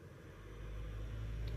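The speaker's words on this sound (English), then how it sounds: "truck going by." A truck rumbles past outside an open window, a steady low engine drone that swells slightly as it goes by, with no one speaking.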